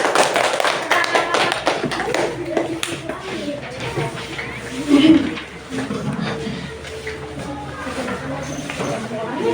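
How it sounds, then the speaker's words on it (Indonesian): Children in an Indonesian classroom clap for a group after a presentation, loose scattered claps mixing with voices and chatter, moderately near and continuing for several seconds. "Ya, tepuk tangan untuk kelompok anggrek"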